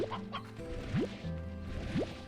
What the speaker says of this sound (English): Oh, yes, a rooster.